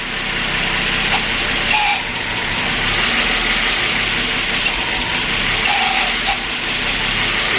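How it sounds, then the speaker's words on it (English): A BMW E34 525i inline-six running just after a blown head gasket repair, idling loudly and steadily up close with a rough, knocking mechanical clatter and a few brief squeaks over the engine drone. "I wanna make sure it starts, because we just redid most of this engine."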